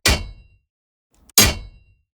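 Two sharp metallic blade-weapon hits for an aggressive cold-steel fighting sound effect, each a bright clanging strike with a quick ringing decay, separated by a short silence, with nothing else heard.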